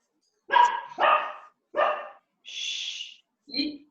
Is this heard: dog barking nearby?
yes